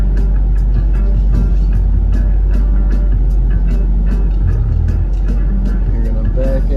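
A Ford Mustang GT pulls away through a residential neighborhood, its engine a loud, steady low rumble with road and vehicle noise over nearly seven seconds; faint voices are heard beneath it.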